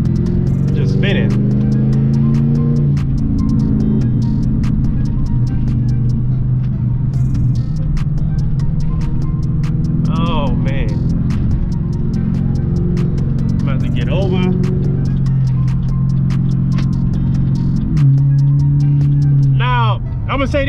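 A Pontiac G8 GT with about 150,000 miles rumbles steadily from inside the cabin while driving, its engine note rising and settling through gear changes as someone talks over it.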